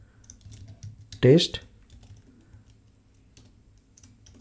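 Light clicking of a computer keyboard typing code, a scatter of faint taps at close range, with a brief spoken word partway through.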